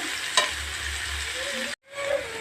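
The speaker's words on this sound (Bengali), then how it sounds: "কচুর লতিগুলো ভেজে নিচ্ছি ভালো করে ভেজে নিতে হবে" Taro stolons frying in oil in a pan, a loud, steady sizzle with stirring, briefly cut off near the end before the sizzling resumes.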